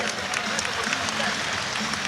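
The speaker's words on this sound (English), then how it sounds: "Отдельные аплодисменты нашим ведущим тренерам." Applause for the coaches at a fight event, a steady dense clapping from a crowd heard underneath someone speaking into a microphone.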